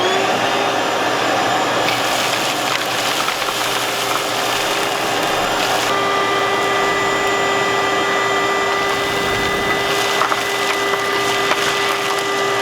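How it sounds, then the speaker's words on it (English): A vacuum cleaner drones steadily and up close while sucking debris out of a rusty Nissan 240 frame rail in a driveway, with scattered rattles and scrapes of material passing through the hose. "should we grab a vacuum and vacuum this thing out?"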